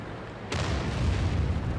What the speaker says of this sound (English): Ooh, and an artillery shell as well.